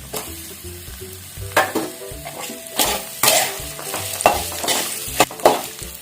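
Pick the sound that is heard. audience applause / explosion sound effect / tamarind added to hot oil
tamarind added to hot oil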